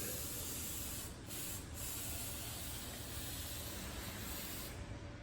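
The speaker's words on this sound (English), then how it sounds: "I'm not spraying the tire. I'm just. Putting the outside." Steady close hiss of spray onto the outside sidewall of a car tire on a cradle-swapped Scat Pack, running continuously with two brief dips.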